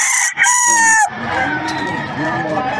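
A White Kelso stag rooster at a pet market gives one loud, close crow lasting about a second, followed by softer clucking and a background murmur of voices.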